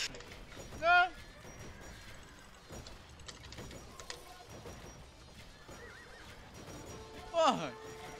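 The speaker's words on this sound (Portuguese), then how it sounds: "Nossa, que pai esses últimos cavalos" Horses whinny twice in Age of Empires 2, one neigh early and another near the end, standing out above a busy battle ambience of clattering hooves and scattered game noise, with people talking over it.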